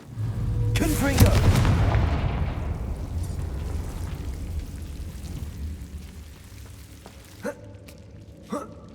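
A Confringo blasting spell from Hogwarts Legacy goes off as a loud, deep booming explosion, then rumbles away over several seconds, with a couple of faint sharp cracks near the end.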